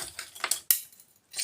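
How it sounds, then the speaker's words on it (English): A stainless steel spoon clinks against other metal scrap while being sorted, giving a few quick, bright taps close by and then a short jangle. "Yep, stainless spoon."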